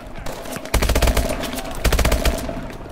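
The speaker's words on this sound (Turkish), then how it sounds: "Bunları vurduk. Şunu da vurduk." Rapid automatic gunfire from the video game Call of Duty Advanced Warfare, two loud sustained bursts of rattling shots separated by a brief lull.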